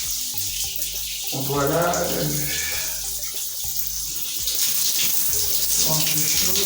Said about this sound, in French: Un peu chaude, un peu d'eau froide. Voilà, et je commence à mouiller.